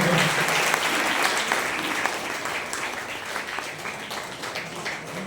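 Audience applause at a district youth service seminar, full and loud clapping from a crowd that is strongest at the start and slowly thins, with some voices mixed in.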